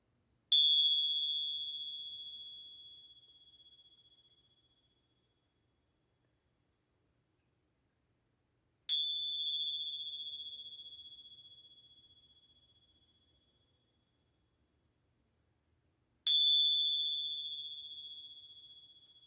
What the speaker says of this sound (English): So let's begin the bells